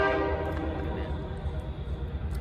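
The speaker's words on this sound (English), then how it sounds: "that's a train" A train passes nearby, its horn blaring loudly at the start with a steady rumble that gradually softens; no one speaks over it.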